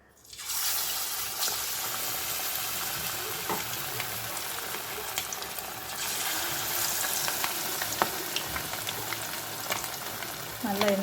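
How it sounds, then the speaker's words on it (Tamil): Chicken leg pieces drop into hot oil and fry with a loud, dense crackling sizzle that starts suddenly and holds steady, with occasional spatters and stirring clicks. "லெக் பீஸை அதில் பொரிச்சு எடுப்போம்."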